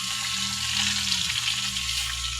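Fish fries in a hot pan for breakfast, a steady crackling sizzle with a faint low hum beneath and a brief shift partway through, close and unbroken with no talking.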